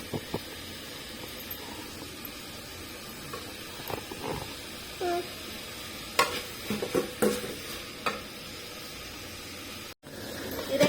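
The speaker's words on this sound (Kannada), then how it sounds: "ಎಣ್ಣೆಕಾಯಿನ ಚೆನ್ನಾಗಿ ಫ್ರೈ ಮಾಡ್ತೀನಿ" Ridge gourd frying in oil in a pan, a soft sizzle beneath sparse clinks and scrapes of stirring that grow busier later, fairly quiet with no talking.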